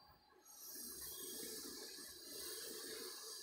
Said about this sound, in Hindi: अब हम इसमें दे देंगे पानी।